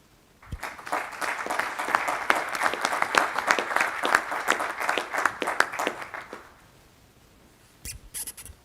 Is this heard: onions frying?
no